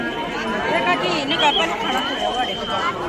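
A large crowd chattering at a bhandara gathering, dense overlapping voices forming a steady babble close around, with a voice talking over it.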